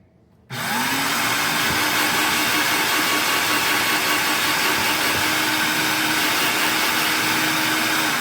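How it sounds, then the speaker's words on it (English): A food processor chops pecans extra fine for a Creole-style cheesecake, starting abruptly after a brief quiet moment and then whirring loudly and steadily without pause to the end. "I do need a new food processor."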